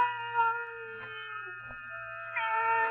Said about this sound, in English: the faint crying of one cat